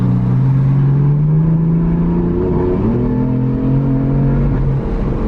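A BMW M4 exhaust with an aftermarket valve controller mod revs loudly and up close, a droning engine note that rises and falls continuously with no one speaking.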